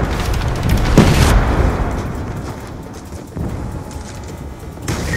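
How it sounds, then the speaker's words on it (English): A UAV is destroyed in a Black Ops 2 multiplayer match, heard as a deep, loud boom with a rumbling tail, followed by lower game noise and a second softer burst near the end. "Hostiles have destroyed your UAV."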